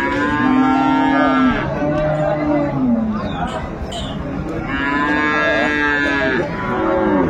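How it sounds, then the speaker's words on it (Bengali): A dairy cow and her calf low in long, drawn-out moos at a busy cattle market, the calls close and loud and repeating over faint crowd babble. "সামনে চমৎকার একটি গাভী বাছুর, বেশ সুন্দর কোয়ালিটির"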